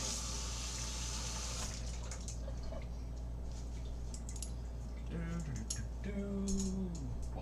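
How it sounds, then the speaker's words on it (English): A kitchen knife rinsed under a running tap, a steady wash of flowing water with faint drips, and squeaky rubbing of the blade near the end. "we want to wash our knife real quick"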